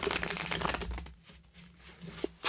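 A small deck of love and romance tarot cards gets a quick shuffle, giving off a soft, quiet, papery rustle and crinkle for a couple of seconds, with a few light taps at the end.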